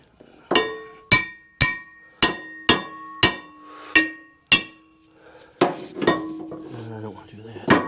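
A big hammer strikes a metal tapping block on a Frick sawmill, about nine sharp ringing clanks in a steady rhythm, loud and close, followed by a few rougher knocks and brief voices.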